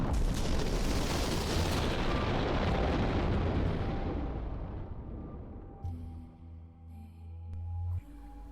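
A massive explosion blows the top off a towering junk heap in a game cutscene, a loud sustained roaring rumble that gradually fades, followed by quieter tonal hum and clanks.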